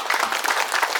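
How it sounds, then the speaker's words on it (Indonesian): An audience at a biogas power plant launch ceremony in Merauke, Papua, bursting into steady, dense applause, with many hands clapping together in a continuous close wash of sound. "Kita tepuk tangan dulu untuk kita."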